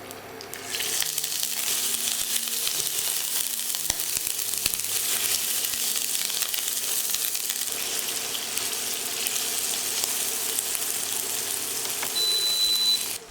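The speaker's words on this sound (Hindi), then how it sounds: "अब मैं इसमें पनीर फ्राई करूंगा" Paneer frying in a Carote nonstick pan, a steady bright sizzle and crackle of hot oil with occasional sharp pops and spatula clicks, continuous throughout, no speech.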